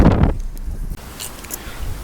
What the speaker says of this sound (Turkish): Rüzgar aşırı fazla